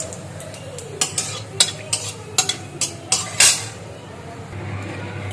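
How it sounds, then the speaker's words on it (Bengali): Radhuni spice dropped into hot oil, sizzling under a run of quick, loud metal spatula clinks and scrapes against the pan, then settling into a quieter sizzle. "তেলটা গরম হয়ে গেছে এখন এর মধ্যে দিয়ে দিলাম রাঁধুনি সম্বাদ"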